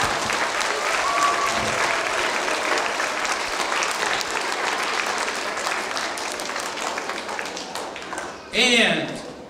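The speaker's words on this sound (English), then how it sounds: "We'd also like a big round of applause for our second grade teachers" Audience applause for the second grade teachers at a school event, a steady dense wash of clapping that runs the whole stretch before a brief louder burst near the end, with a voice faintly beneath.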